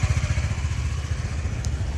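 A Japanese Honda Dio 110 JF31 fuel-injected scooter engine idles close by, a smooth, steady low putter with an even pulsing rhythm and no other sounds.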